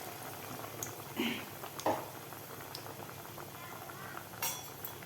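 Potato vadas deep-fry in hot oil with a soft continuous sizzle and bubbling, punctuated by a few faint utensil clinks, quiet and close without talk.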